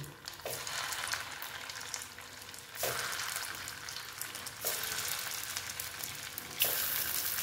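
Soya chunk koftas fry in hot oil with a soft, continuous sizzle that swells in a few bursts as more pieces go in.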